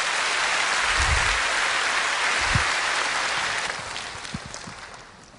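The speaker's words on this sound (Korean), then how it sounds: "우리 다 같이 박수로 맞으시겠습니다" Church congregation applauding to welcome an elder up to give a testimony, broad steady clapping that holds for several seconds and then tapers off.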